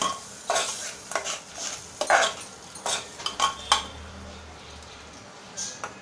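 Food sautéed and stirred in a pan, with scraping and clinking of a spatula against metal in irregular bursts over a soft sizzle, close and fairly loud.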